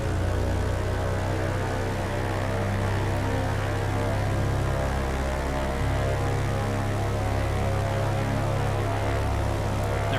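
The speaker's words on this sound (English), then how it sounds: "So I'm going to run the engines up a little bit first." The twin engines of a Loganair BN2 Islander in a flight simulator drone steadily, running up with a constant loud hum and a slight shift in pitch midway through.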